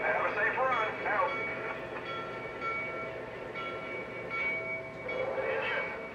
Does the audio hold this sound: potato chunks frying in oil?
no